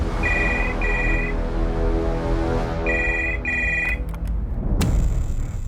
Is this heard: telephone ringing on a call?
yes